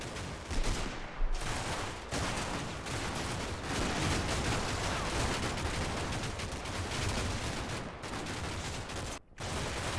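Sustained MG42 machine gun fire in Combat Mission Battle for Normandy, a WW2 game: a dense, rapid roar of automatic fire runs almost unbroken for ten seconds, with brief gaps between bursts.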